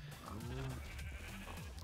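Sheep bleat several times in a video game farm from Attack of the B-Team, wavering calls over a steady hum of game ambience, fairly close and moderately loud with no talk.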